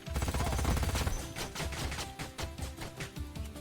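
Units open fire in the sci-fi strategy game Age of Wonders: Planetfall, a burst of rapid gunfire and impacts, loud at first and then settling into rhythmic repeated shots with a game score underneath.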